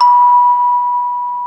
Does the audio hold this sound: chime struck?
yes